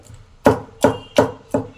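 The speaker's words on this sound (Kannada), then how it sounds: "ಟೊಮಾಟೋನ ಹಾಕಿ ಫುಲ್ ನುಣ್ಣಗೆ ಕುಟ್ತಾ ಇರೋದು ನೋಡಿ ನಾನು" Ripe tomato pounded by hand into a fine paste, four sharp, evenly spaced thuds with short decays, close and loud with no talking.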